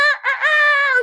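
Rooster crows once, loud and close, a single drawn-out harmonic call of about a second with no other sounds.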